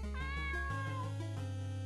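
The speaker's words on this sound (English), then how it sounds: "Wonder what a cat is doing in here." A cat meows in the Elements of Harmony video game, one drawn-out rising and falling meow over steady game music, clear and close.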